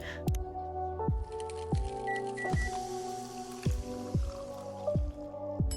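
Coffee drips into a cup while brewing in the video game Coffee Talk Tokyo, a steady series of about eight round, plopping drops falling at regular intervals over a soft background hum, close and clear with no talking.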